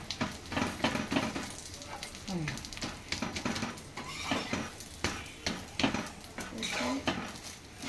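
An egg roll flatbread fries in a pan over high flame, with a steady close sizzle and frequent metallic clinks and scrapes of a utensil against the pan, and a voice talks throughout.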